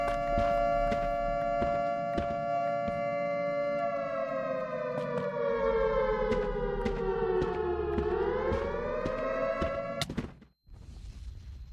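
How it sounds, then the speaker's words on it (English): A loud, wailing Minecraft siren holds a steady tone, then dips and rises, over scattered sharp bangs like gunfire, before cutting off abruptly near the end. "when I heard the siren, I panicked"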